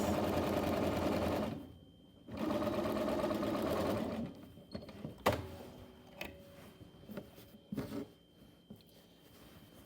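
A sewing machine stitches a fly front zipper seam on pants in two steady bursts of close, loud motor whirring, separated by a short pause, then followed by quieter clicks and handling sounds.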